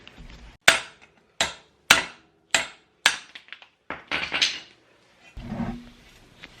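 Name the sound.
hammer striking chisel on bearing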